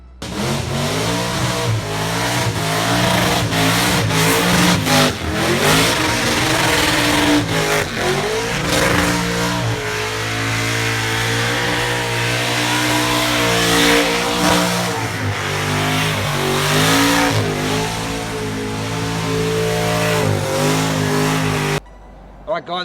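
A Holden VL race car's engine revs hard and repeatedly through gear changes, screaming close and loud with tire squeals along the way, sustained for over twenty seconds before cutting off abruptly, with a voice talking faintly underneath.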